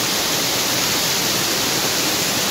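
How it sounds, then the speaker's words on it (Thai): Tad Ton waterfall in a Thai national park, a dense, steady roar of falling water filling the whole clip, loud and close with no letup. "น้ำตกตาดโทน"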